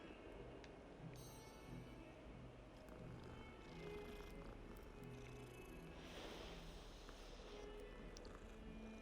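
A cat in the Hogwarts Legacy video game purrs steadily while being petted, a faint continuous low rumble with soft game ambience around it and no talk.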